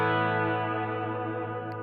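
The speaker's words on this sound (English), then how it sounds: "I do like the natural reverbs in the Headrush" A sustained electric guitar chord rings out through a Headrush natural reverb effect with a lush reverb tail, slowly fading and blooming, with no voices.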